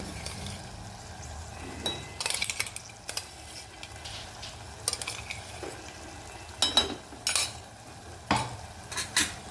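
Ground peanut powder is stirred into a simmering pea and potato curry in a pan. A spoon scrapes and clinks against the metal in repeated strokes over a low, steady sizzle, close by and without speech.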